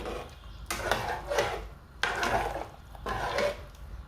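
Three bursts of scraping, clinking stirring in a pot of draw soup with okra, each about a second long, close up with short pauses between them.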